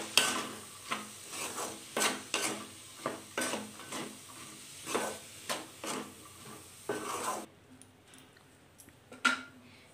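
Beetroot and moong dal curry being stirred in a pan with salt: a spoon scrapes in repeated rhythmic strokes, about one per half second, close and fairly quiet, with faint sizzling beneath.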